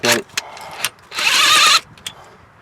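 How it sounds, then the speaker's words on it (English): Impact wrench spinning a nut onto a header stud during a JBA longtube header install on a Nissan Titan, a short clicking followed by a half-second whirring buzz, close and loud between a few clanks. "I'm just going to use the impact to spin it on quicker"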